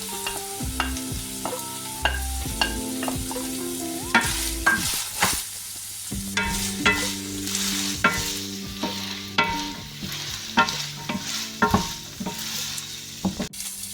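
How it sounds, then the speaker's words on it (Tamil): Onion, carrot and garlic for lasagna fry in a pan under a steady sizzle, with repeated close scrapes and taps of a spatula coming in irregular bursts and no voices. "இப்போ வெங்காயம், கேரட், உள்ளி 3ஐயும் போட்டு கொஞ்சம் குக் பண்ணுங்க."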